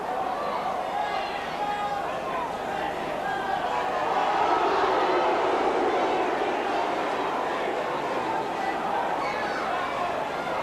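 A rugby league crowd at Elland Road, Hunslet against Keighley, grumbles and murmurs in a steady, dense wash of noise that swells slightly midway. A voice may run faintly beneath the din.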